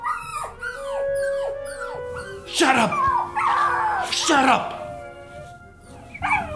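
A pet dog barks and howls in a series of loud, close outbursts with whining, yelping tones, while someone repeatedly shouts at it over the noise.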